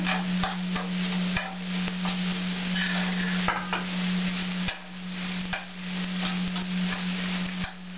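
Hot bean salad with carrot, soy, salt, pepper and seasonings stews in a pan, giving a steady close sizzle with a low hum and repeated scraping, knocking stirs throughout.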